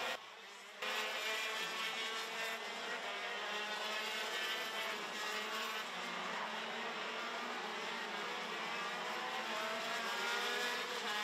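KZ2 racing karts at Wackersdorf during a club race, engines droning and revving at a distance in a continuous high-pitched whine, steady with no talk.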